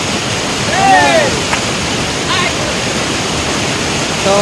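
Steady broadband rush of a waterfall and flowing river at an outdoor beauty spot in Koraputia, loud and continuous throughout, with faint high chirps, probably birds, briefly rising above the water.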